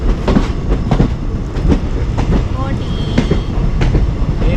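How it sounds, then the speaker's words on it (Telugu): A train running along the Goa to Vijayawada line through the Dudhsagar ghat section, close to a tunnel entrance, with steady rumbling, repeated clickety-clack wheel beats and a faint squeal, while a voice speaks over it. "train entering in to the tunnel"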